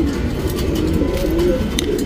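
Pigeons of a tournament patta line breed coo in soft, low, throaty calls, repeated close by over steady background noise.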